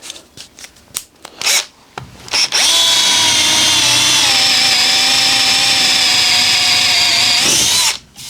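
A compact Bosch GSR 12V-15 FC drill/driver in drill setting with a 12 mm bit spins up after a few short handling knocks and runs with a steady, loud, high whine for about five seconds before stopping.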